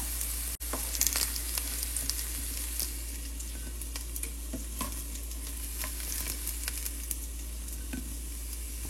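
Bitter gourd frying in a pan with masala, a continuous hiss and crackle of oil under intermittent stirring scrapes, close and steady, with no one talking.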